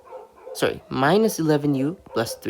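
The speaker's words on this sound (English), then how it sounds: "And I'm so sorry if you can hear the dogs outside." Dogs bark outside at night, faint and partly masked beneath a person speaking close to the microphone.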